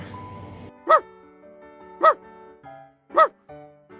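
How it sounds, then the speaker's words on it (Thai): Three sharp dog barks evenly spaced about a second apart, clear and close, with faint background hum between them. "เสียงสุนัขนั่นเอง"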